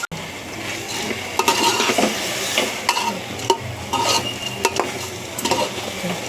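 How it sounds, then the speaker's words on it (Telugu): Rice sizzles in a pot while a spoon scrapes and clinks against the metal in repeated stirring strokes, fairly close and loud. "కొంచెం ఫ్రై అవనిస్తాను."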